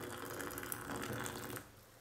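Freshly boiled water is poured over oregano in a cup for tea, a steady close trickling stream that stops abruptly near the end.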